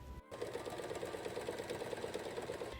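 A sewing machine with a regular presser foot stitches around the outlines of letters on a quilted Christmas stocking, a quiet, rapid, evenly pulsing whir running steadily after a brief start.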